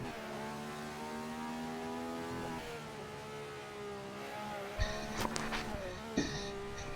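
A Ferrari race car roars through a racing video game at a 1967-era Montjuic circuit, its engine droning steadily with rising and falling revs, and sharp clunks and bursts near the end.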